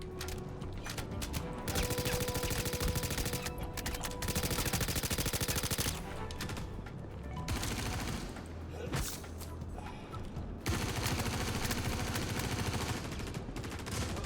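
Sustained automatic gunfire from a Star Citizen firefight, dense rapid bursts with short gaps, loud and close throughout.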